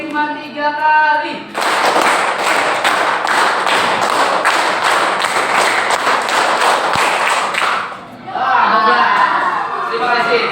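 Seated participants at a coaching workshop clap a counted rhythmic pattern together, a loud, dense run of group claps lasting several seconds, framed by talking and light chatter before and after.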